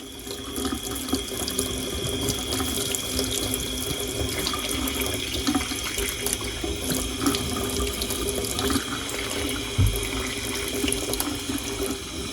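A Shark vacuum filter being rinsed under a running tap, with a loud, steady rush of water splashing into a sink and small shifts in the flow as the filter moves.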